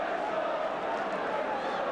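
A football match crowd roars in a broad, steady wash of noise after a near-post header is saved, the sound close and continuous for two seconds with no break.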